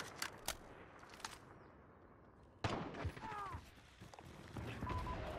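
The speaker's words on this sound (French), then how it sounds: "Je recharge." A weapon reloads in Call of Duty: Modern Warfare, with clicking, ratcheting mechanical clacks and a sharp metallic snap midway. Quieter game ambience and distant gunfire fill the background.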